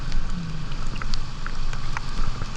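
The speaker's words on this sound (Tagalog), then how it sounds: "Grabe tong ulan na to." Steady downpour recorded during a motorcycle ride in the rain, a dense hiss of raindrops with faint rumbling underneath, continuous and close throughout.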